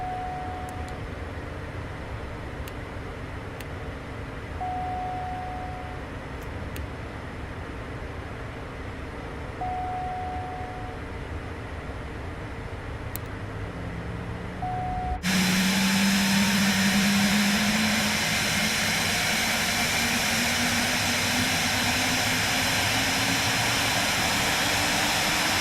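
An Embraer Phenom 300E jet engine spinning up in Microsoft Flight Simulator 2024, starting as a steady whine with intermittent beeps, then a sudden loud surge into a rising, roaring turbine tone.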